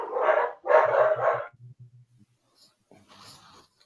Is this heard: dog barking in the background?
yes